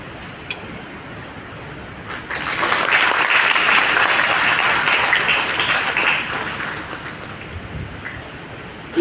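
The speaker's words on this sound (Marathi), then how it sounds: "आपण जोरदार टाळ्या वाजवून त्यांचं स्वागत करूया" An audience at a church feast Mass for a bishop claps loudly to welcome guests, applause swelling after a couple of seconds and holding steady before fading out.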